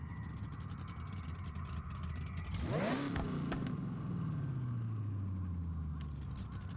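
A Chevy Nova with a race exhaust in Forza Horizon 6 idles under a low rumble, then one sharp rev sweeps up and slowly winds back down to a steady idle, loud and close.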